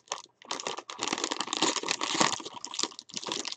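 A trading card box's plastic wrapper is cut open and peeled back, producing continuous close crinkling and tearing with brief pauses.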